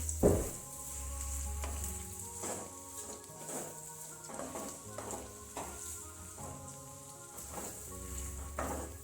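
Vegetables such as carrots frying in a pan over high flame for mixed pickle, a steady close sizzle with repeated stirring scrapes and clinks throughout.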